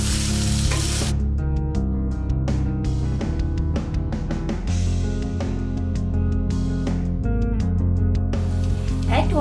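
A potato mixture with coriander and lemon juice cooks in a pan, its sizzle steady and close beneath a constant layer of loud tonal music, with a few scraping stirs.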